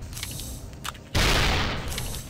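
A sudden loud blast bursts out about a second in from the video game UFO Afterlight, breaking over faint background game ambience and then decaying slowly.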